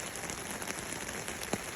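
Heavy rain pours steadily outdoors during a fishing trip in the Pacific Northwest, a dense, continuous hiss of drops on surfaces with a few sharper nearby splatters, close and fairly loud with no talking.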